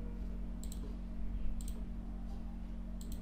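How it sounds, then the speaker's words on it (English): Mouse clicks on a Windows computer while opening a zip file: three short, crisp double-clicks spaced about a second apart, heard close and alone over a steady low hum. "So just double click it to extract this zip file."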